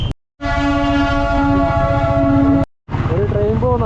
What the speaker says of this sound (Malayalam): നമ്മളെ പാലത്തിൻ്റെ മുകളിൽ കൂടി തന്നെ ട്രെയിൻ പോകുന്നുണ്ട്